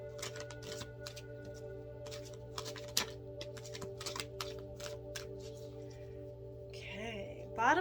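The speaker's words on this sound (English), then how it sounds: "this one I'm being guided to just shuffle" Soft, quiet riffling and light tapping of tarot cards being shuffled, repeated in short bursts over a low steady hum.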